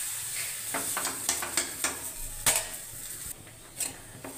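Gola ruti batter frying in hot oil as one side is flipped, with a steady sizzle broken by several sharp pan and utensil clicks.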